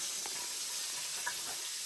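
Steady sizzling and hissing of flour-coated fish frying in a hot pan, continuous and close, with a few faint clinks.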